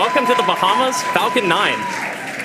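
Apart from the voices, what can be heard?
crowd cheering and applauding after Falcon 9 landing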